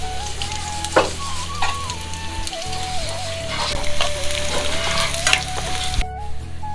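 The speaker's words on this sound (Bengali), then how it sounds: "তো প্যানে দিয়ে দিচ্ছি পেঁয়াজ কুচি।" Chopped onions sizzle and crackle in a hot oiled pan while being stirred for a chepa shutki filling, with a steady frying hiss, sharp pops and scraping strokes, and a melody playing underneath.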